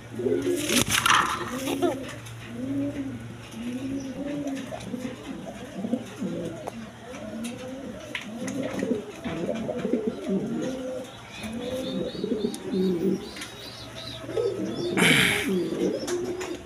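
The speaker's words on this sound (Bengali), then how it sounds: "এখানে এক পেয়ার মন্ডিয়ান কবুতর আছে।" A pair of Mondain pigeons coo steadily in repeated low, rolling phrases at close range, with a faint steady hum beneath and a couple of brief brighter noises mixed in.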